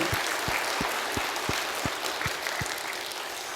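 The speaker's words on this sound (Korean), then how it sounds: "우리 한번 박수하겠습니다." A church congregation at a revival service claps together in a steady, even rhythm, a dense wash of applause sustained throughout at moderate loudness.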